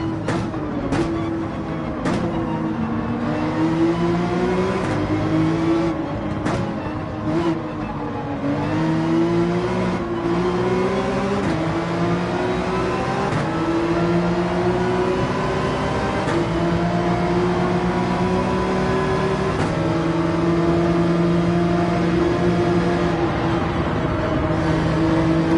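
Gran Turismo 7 race car at full throttle around the Nürburgring, engine droning steadily and climbing through gears over sustained, loud, close revving.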